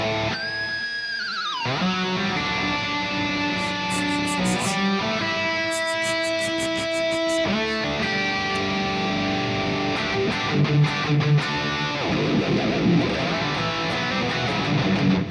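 An electric guitar played through an Axe-Fx set to a 90s patch rings out in loud, distorted sustained chords and fast picked runs, with short choppy bursts and a heavier, noisier passage near the end.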